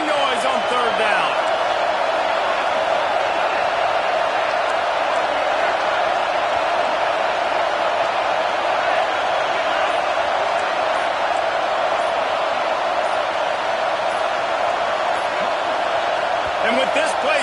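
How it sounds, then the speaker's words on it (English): A home crowd at a football game roars steadily and loudly on third down, a dense sustained wall of noise with no letup from start to finish. "This dog crowd is off the leash, and they are coming after them, bringing noise on 3rd down."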